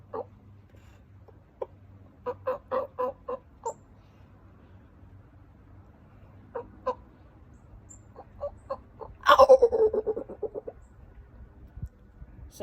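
Scattered soft clucks from a few wild turkey hens moving into a pasture, then a burst of rapid, louder clucking calls, over a low steady rumble in the background.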